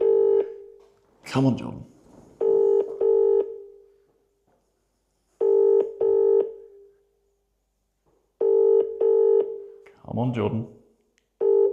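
Touch-tone beeps dial out in quick clusters, then long steady ring tones follow between them, while a man urges someone to pick up, and a sharp clunk cuts in near the start.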